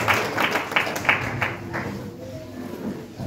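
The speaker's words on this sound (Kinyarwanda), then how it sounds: "Dukomere Imana yacu amashyi" A church congregation claps in quick rhythmic unison, the beats strong at first and then fading into a murmur of the room.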